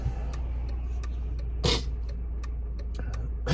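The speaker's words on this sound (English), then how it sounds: "Turn signals on here." A car's turn signal ticks steadily inside the cabin, a row of short, evenly spaced clicks over a low engine and road hum.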